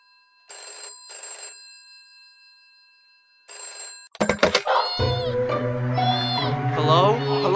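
A telephone rings in two short bursts, pauses, then rings once more, close and clear against silence in a Three Little Pigs audio drama, before music and a voice take over.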